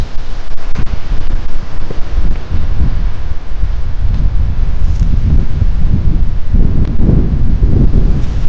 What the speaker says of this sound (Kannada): ಬರೇ ಗಾಳಿ